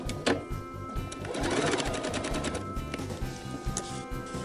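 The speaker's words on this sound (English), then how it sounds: "put our needle in here and begin sewing" A sewing machine stitches a tote bag, its needle running in a fast, close, steady mechanical chatter that speeds up and settles. A few clicks and knocks come from the machine, with no voices.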